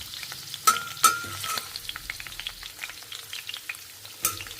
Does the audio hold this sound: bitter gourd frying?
yes